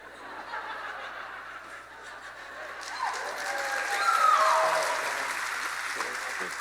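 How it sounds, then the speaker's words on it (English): An audience at a celebration-of-life gathering breaks into applause mixed with chuckles and laughter, a steady wash of clapping that swells toward the middle and then eases, with voices murmuring underneath. "hold for applause."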